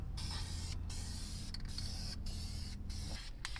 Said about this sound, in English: So let's do a quick test spray,